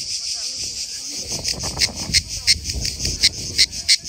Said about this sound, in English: Cicadas, guys. That one's actually chirping right now.